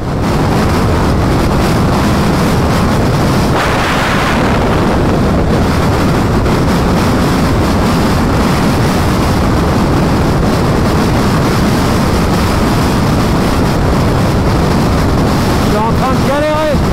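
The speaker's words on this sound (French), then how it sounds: "Le vent il est de côté depuis maintenant 100 km comme ça là." Heavy, steady wind roaring across the microphone with low rumbling buffeting throughout, loud and continuous, from a strong sandy crosswind on a moving motorbike in the Algerian desert.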